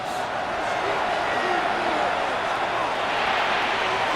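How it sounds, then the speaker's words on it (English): Stadium crowd noise in the video game Madden NFL 26, a dense, sustained roar of fans building pressure before a third-and-inches snap, loud and unbroken for the whole stretch. "This crowd, they're trying to force a false start. What noise before third and inches."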